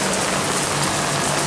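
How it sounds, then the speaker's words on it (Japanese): Heavy rain pours steadily in Hong Kong, a dense, loud, unbroken hiss of drops drumming on surfaces close by, with no voices. "すごい雨だね、ほんと。"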